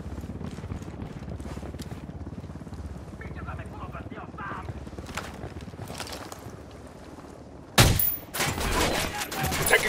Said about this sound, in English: Taking fire from the parking area.